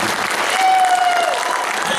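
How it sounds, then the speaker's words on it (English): An audience at a Power Rangers fan Q&A in Corpus Christi breaks into steady, close applause that fills the whole moment, with a faint whistle briefly riding over the clapping. "Yeah, go ahead, clap for that."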